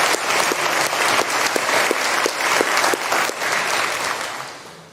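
Audience applause fills a baccalaureate ceremony hall at Colgate University, a dense, steady wash of many hands clapping that holds loud for the whole stretch before tapering slightly at the end.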